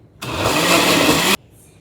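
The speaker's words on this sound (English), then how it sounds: "Put the blender on, turn it the right way." A blender whirs loudly while blending pineapple for juice, starting abruptly and running steadily for about a second before cutting off sharply.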